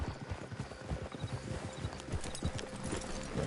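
Several horses' hooves clip-clopping in a steady overlapping rhythm in Red Dead Redemption 2, fairly quiet and continuous, with a faint whinny mixed into the hoofbeats.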